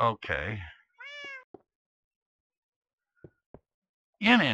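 A cat in the Minecraft video game gives a few short, clear meows separated by silence, with a couple of soft knocks between them and a voice speaking at the start and the end.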